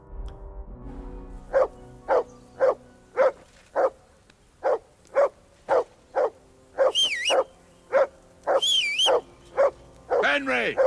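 A dog barking in Kingdom Come: Deliverance II, about a dozen loud, evenly spaced barks near the listener, with some higher yelping calls partway through and a whine at the end.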